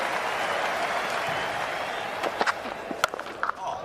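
Cricket crowd gives warm applause after Jonny Bairstow's innings of 139 off 92 balls for England, a soft, distant patter of clapping that thins into a few sharper scattered claps toward the end.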